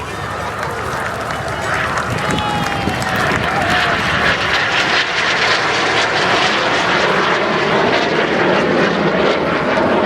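A single aircraft makes its final low pass down a beach, its engine roar rising and holding loud and near for several seconds as it sweeps by, with faint crowd sound beneath.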